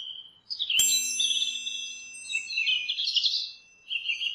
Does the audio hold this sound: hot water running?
no